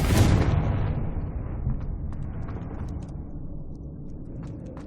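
A Confringo fire spell blast in the Hogwarts Legacy video game: a loud burst at the start decaying into a rumbling roar with faint crackles, alone and without talk.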